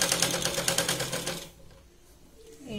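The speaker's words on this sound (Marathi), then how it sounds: "त्यानंतर मग आपल्याला या पद्धतीने अगदी कडेने शिलाई लावून घ्यायची" Sewing machine stitching along the edge of a katori blouse, a fast rhythmic close-up whir for about a second and a half that then stops, leaving quiet room sound.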